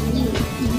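Racing pigeons cooing, a short, close, throaty coo over a steady low background.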